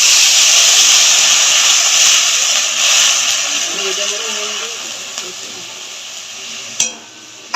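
Water poured into a hot pan while cooking a Bengali mustard-paste stalk dish, giving a loud, steady hiss and sizzle of steam that slowly fades, ending with a brief clink of utensils.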